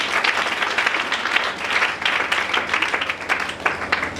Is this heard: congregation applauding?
yes